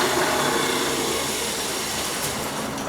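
Ford 800 tractor engine cranking and running unevenly on a carburetor in poor shape, a steady close mechanical drone that holds for several seconds with no talk.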